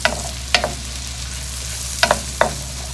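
Beef short ribs sautéing in a pan with onion and butter give a steady close sizzle, broken by a few sharp clinks and scrapes of a utensil stirring, and no voices.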